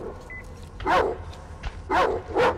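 Dogs barking in the Metro Exodus video game, three loud barks in two bursts over a low background hum.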